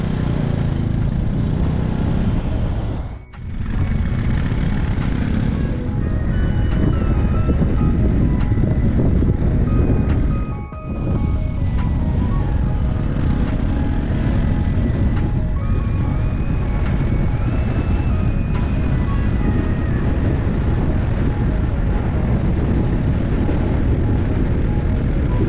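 A Bajaj Pulsar motorcycle ridden on a cold mountain road in Sikkim, its engine droning loudly and continuously with heavy wind rush, the roar steady apart from two brief dips.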